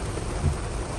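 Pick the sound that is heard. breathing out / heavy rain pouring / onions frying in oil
heavy rain pouring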